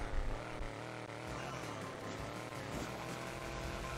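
A helicopter vehicle in the mobile game Hill Climb Racing 2 whirs with a dense, constant rotor and engine buzz, loud and unbroken, with faint talk underneath.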